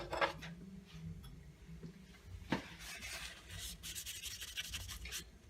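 Soft, continuous rubbing as paint is wiped across an industrial metal vent to imitate rust, with one sharp tap partway through; close, quiet and steady, no speech.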